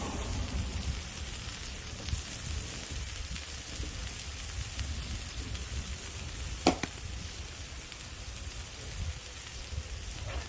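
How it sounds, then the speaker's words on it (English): Chicken fajitas sizzle steadily in a hot cast iron pan, a soft continuous crackling hiss with one brief louder clink partway through. "listen to that sizzle"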